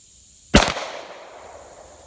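One sharp, loud crack from a Beretta 90-Two pistol fired single action, an abrupt report followed by a short fading echo against quiet surroundings.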